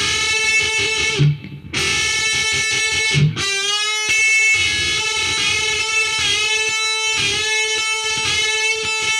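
Distorted heavy metal electric guitar picks rapidly back and forth between two strings, a loud sustained buzzing tone with a couple of brief breaks before ringing on, played alone.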